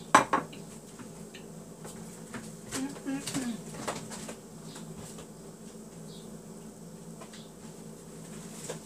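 Taco filling of Mexican rice and sautéed vegetables being stirred together with salsa, with a spoon clinking and scraping against a bowl or pan in a few close, brief bursts over a quiet kitchen background, with some talk.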